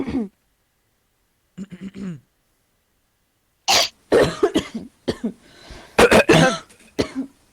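Several sharp coughs and throat-clearing bursts from people nearby, scattered between brief moments of talk and silence.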